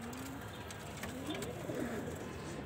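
A male pigeon coos in low, soft rolling notes, faint and somewhat distant over a constant background hiss.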